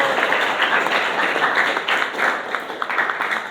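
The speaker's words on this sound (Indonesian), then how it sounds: "Kita beri tepuk tangan untuk kelompok" Classroom applause for a student discussion group, steady and fairly close, a dense patter of many hands clapping that holds evenly throughout without fading.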